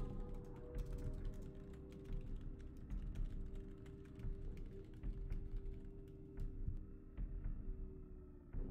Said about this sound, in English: Oh my god, he's typing it. I hear it.